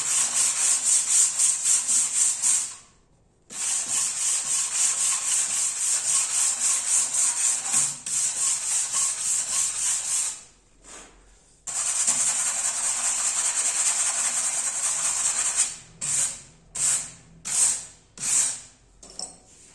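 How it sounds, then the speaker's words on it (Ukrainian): Steady abrasive rasping of 150-grit sandpaper on a hand float worked along a cut ceramic tile edge, long continuous strokes that break into short rhythmic passes near the end, close and loud with no talking. "Беремо звичайну терочку, шкурку 150 і проходимо це."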